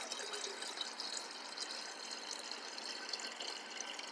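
Lavender distillate pours into a container as a soft, continuous trickle of liquid, faint and close, running evenly for the whole stretch without any talking.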